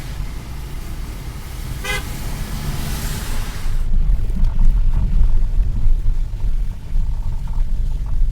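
Road traffic heard from inside a Hyundai i10 Nios on the Chandigarh–Manali route, with a single horn toot near the start over a steady, close engine and road rumble that grows louder toward the end.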